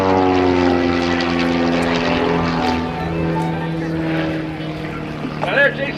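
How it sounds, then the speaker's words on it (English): A propeller-driven aerobatic airplane flown by Jason Flood at the 2010 New Garden Airshow drones steadily as it rolls inverted, its engine tone loud and sustained beneath a commentator talking over the loudspeakers. "Now there, Jason, take the airplane to the inverted, and he's pushing outside."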